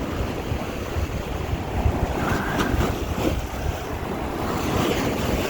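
Sea waves surging steadily onto Blackpool Central Beach, a constant loud broadband wash of surf with wind buffeting the microphone and no voices.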